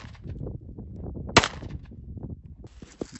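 A single sharp gunshot from a 5.56mm AR pistol with a Holosun 507C V2 sight, fired at a steel plate outdoors; one loud crack stands out from a steady background murmur.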